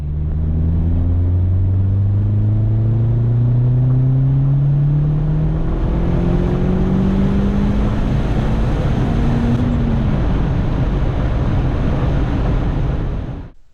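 A car engine at wide open throttle, loud and close, its drone climbing steadily through the gears with brief drops at each shift, under rushing wind noise, then cutting off abruptly.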